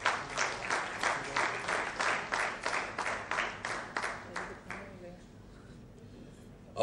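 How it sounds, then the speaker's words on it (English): An audience at a property launch event applauds guests, a moderate wash of clapping with a rhythmic pulse that fades out in the last couple of seconds, with a voice heard faintly. "Please give them a huge round of applause."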